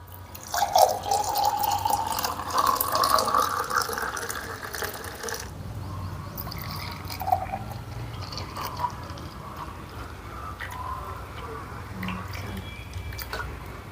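Buttermilk pours into a glass with a close liquid trickle and splash that lasts a few seconds, followed by quieter drips and faint handling sounds.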